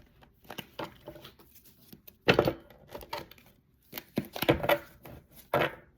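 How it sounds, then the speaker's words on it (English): Tarot cards are shuffled in quick riffling bursts, crisp flutters and snaps with short pauses between them, close and fairly quiet. "I want to shuffle this really good."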